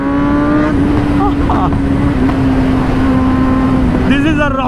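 A superbike engine hums steadily while riding along a village road, a strong sustained drone close by, with someone talking excitedly over it and brief shifts in pitch near the end.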